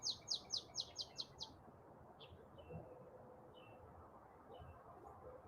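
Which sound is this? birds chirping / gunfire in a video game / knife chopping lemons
birds chirping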